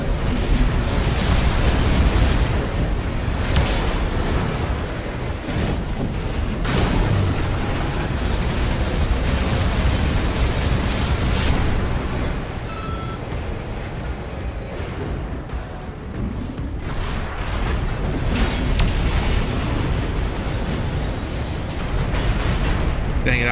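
Rapid chain gun fire from a mech in Armored Core VI, a continuous dense roar of booming shots and blasts that runs loud nearly throughout, easing briefly midway before resuming.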